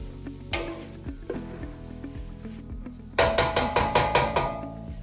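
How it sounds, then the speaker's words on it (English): Sesame seeds are tossed through a chicken and vegetable stir fry of spicy noodles in a hot pan, with soft sizzling and then a burst of quick, rhythmic scraping and clattering as everything is mixed. "we're just going to add the sesame seeds in there. And we're going to give that a mix"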